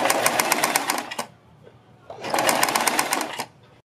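A sewing machine runs along a garment's neck edge in two close, loud bursts of rapid stitching separated by a brief pause.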